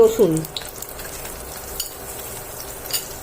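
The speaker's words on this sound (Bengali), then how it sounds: "রসুনটাও আগে কড়াইয়ে আমি একটুখানি নেড়ে নিই।" Chopped garlic is stirred and fried in a wok, a soft continuous sizzle with occasional scraping clicks of the spatula after a brief louder clatter at the start.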